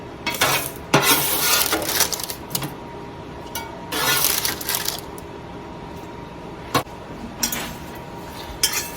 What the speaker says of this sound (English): we're going to toss all this together because we want all of those goodies on these fries